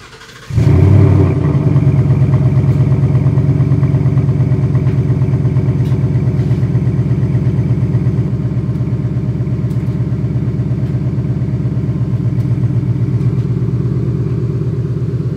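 A manual 2019 Ford Mustang GT engine fires up with a loud bark, then settles into a deep, steady, throbbing idle that carries on close and strong without any talking.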